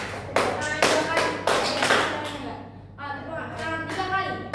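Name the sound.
clapping hands twice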